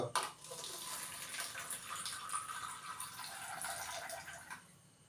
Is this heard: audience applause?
no